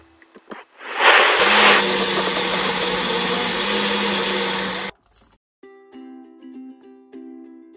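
A blender whirs steadily for about four seconds as it purees peeled plum tomatoes and peppers for jollof rice, then stops abruptly, followed by faint clinks.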